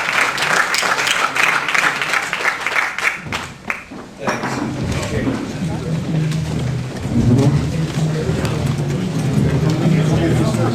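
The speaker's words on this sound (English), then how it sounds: "I think we'd like to give a big round of applause for Eric Lehman." Applause at a 2001 Depeche Mode Exciter Tour press conference: dense clapping fills the room for a few seconds, dips, then gives way to a mix of continued clapping, crowd noise and a low rumbling hum.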